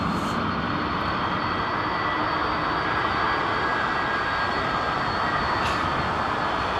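A jet airliner taxiing at London Heathrow Airport, heard as a loud, steady engine roar and broad rushing rumble that holds constant throughout with no voices.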